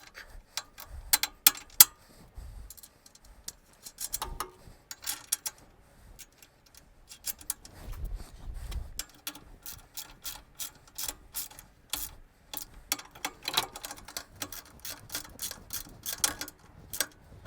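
Ratcheting and clicking of hand tools while parts are bolted onto the frame of a DeWalt 4000-watt generator, with irregular bursts of metallic ticks and clacks close by and no talking.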